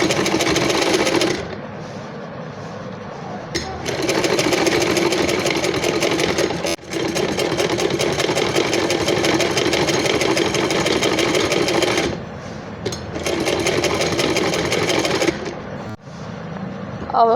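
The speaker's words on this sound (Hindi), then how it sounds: "अब हम यहाँ पर सिलाई लगा देंगे।" A sewing machine stitches a collar in steady, loud bursts of rapid mechanical whirring, with brief pauses between runs and no talk over it.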